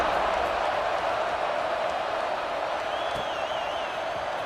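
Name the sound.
football stadium crowd cheering at a night game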